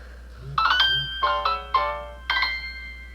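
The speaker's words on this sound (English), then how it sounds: "And there goes my phone, darn Facebook notifications." A phone's Facebook notification chime rings out several times in quick bright bursts of bell-like tones, close and clear over a low hum.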